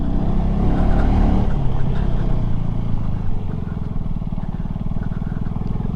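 A KTM Duke 250 motorcycle climbs a steep hill in second gear, its single-cylinder engine droning loud and close with a steady throbbing pulse and a slight drop in pitch partway through.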